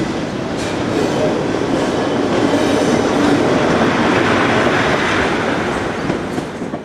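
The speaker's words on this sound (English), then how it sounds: "Finally, CFL Centre Cab Electric Locomotive number 3608 arrives with another service from" CFL centre-cab electric locomotive 3608 rolls in with a passenger service from Luxembourg, a loud, continuous rumble and rush of wheels on rail close by, steady throughout and easing slightly at the end, with no speech.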